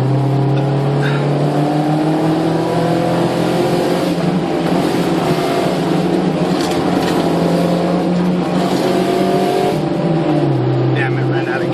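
A Toyota MR2 and a Honda CRX race uphill, one engine revving hard and loud and close through the gears with a steady high-pitched drone that climbs in pitch. People talk over it.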